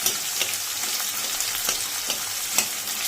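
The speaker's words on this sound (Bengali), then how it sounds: "পেঁয়াজ কুচিটা দিয়ে দিলাম, দিয়ে এবার ভাজছি" Chopped onion fries in a pan, giving a steady, close sizzle throughout. A spatula stirs it now and then, and faint taps punctuate the hiss at irregular intervals.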